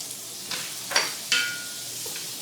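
Salted butter sizzles softly as it melts in a cast iron pan, with a low steady hiss and a few sharper spits and crackles near the middle.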